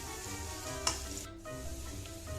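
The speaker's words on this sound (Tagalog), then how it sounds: "igisa natin ang ating bawang, ang light brown. Halu-halo natin." Garlic sautés in hot oil in a pan, giving a close, continuous sizzle with a faint scrape or two from stirring.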